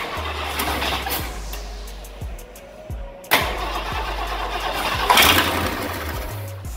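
A 1967 Lincoln Continental convertible barn find with fresh points and condenser cranks with rhythmic starter chugs, falters, then fires up and settles into a rough, close idle.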